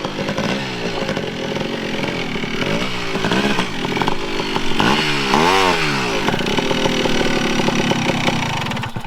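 Engine of a 1982 Honda 250R three-wheeler ATV revived after years of sitting, running with a sticking throttle: a loud, raspy close two-stroke buzz that surges and revs up and down repeatedly instead of settling into a steady idle.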